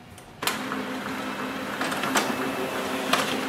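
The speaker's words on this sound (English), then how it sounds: "So if your printer is sleeping, even then it will wake up and start printing." A Canon imageClass LBP236dw laser printer wakes from sleep. A click is followed by a steady mechanical whir and hum as it begins printing, with a few faint clicks and ticks along the way.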